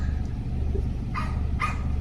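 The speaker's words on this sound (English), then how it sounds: "trying to keep my mind on focus with the dogs barking" Dogs bark twice in quick succession at mid-distance, two short sharp yaps over a low background rumble.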